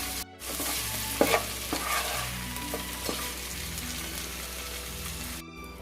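Prawns frying and being stirred in hot oil in a pan for a biryani, a continuous close sizzle with scraping stir sounds, no talking.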